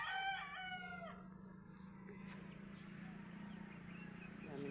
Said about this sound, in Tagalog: Dami nilang mga manok na alaga.